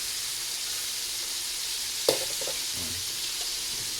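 Garlic sizzles in hot oil for a New Year's meal. A steady, moderate hiss carries through, broken near the midpoint by one sharp clink of a utensil against the pan and a brief stir.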